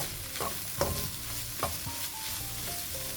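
Masala spices being sautéed and stirred in a pan for a samosa filling: a low sizzle with several distinct scraping strokes of a spoon against the pan, close and clear, no speech.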